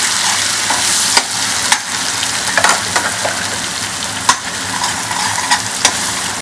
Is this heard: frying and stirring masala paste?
yes